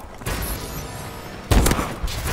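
Gunshots in the video game Call of Duty: Advanced Warfare, with a steady din of game sound under a sudden loud cluster of shots partway through, then a fainter burst near the end.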